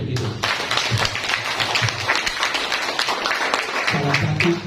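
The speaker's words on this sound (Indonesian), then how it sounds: "Kita berikan tepuk tangan dulu untuk itu." An audience claps in a university lecture hall during a general stadium lecture on law, a dense, even burst of applause that holds steady at close range from start to finish.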